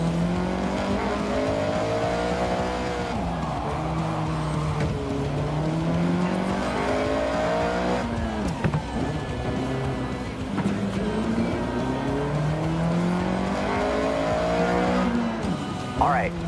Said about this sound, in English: So, foot to the floor. Yeah, floor it.